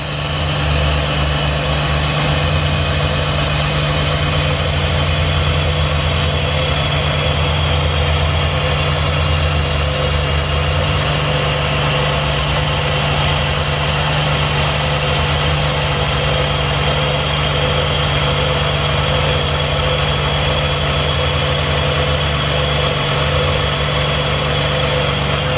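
A 2005 Jeep Grand Cherokee with the 3.7-liter V6 and 117,227 miles idles steadily at a salvage yard, a constant close-up engine hum with low rumble and no talking.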